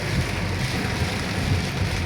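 Continuous heavy rain, falling for over an hour on Dhaka city streets, roars in a thick, even wash of noise, close and loud throughout with no pauses.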